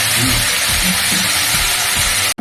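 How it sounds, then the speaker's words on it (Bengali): Boiled soybeans hitting oil in a frying pan for a vegetarian Bengali dish, giving a loud, steady broadband sizzle with faint stirring scrapes, close up, with a brief sharp break near the end. "সোয়াবিনও দিয়ে দিলাম সিদ্ধ করা সোয়াবিন এর সাথে কষিয়ে নেবো"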